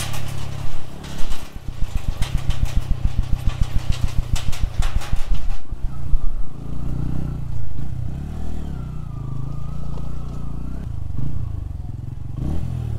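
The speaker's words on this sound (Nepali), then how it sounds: "कस्तो मिठो छ क्या साउन्ड नि पुरा ब्रुम ब्रुम छ के" A new Bajaj Pulsar N160 motorcycle revs hard in quick, loud repeated bursts, then settles into a rough idle with clattering and fluctuating engine tone on a road.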